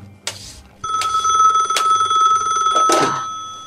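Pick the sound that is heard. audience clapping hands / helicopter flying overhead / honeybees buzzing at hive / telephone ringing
telephone ringing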